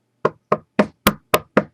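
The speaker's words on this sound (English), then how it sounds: "There was a knock on the door." Six sharp knocks on a door, struck in an even rhythm, close and loud with no voices, the fourth and fifth blows landing a little harder than the rest.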